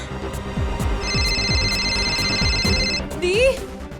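A telephone rings loudly with a bright, sustained electronic trill that repeats in rapid bursts over a steady rhythmic background score, followed by a short vocal sound at the end.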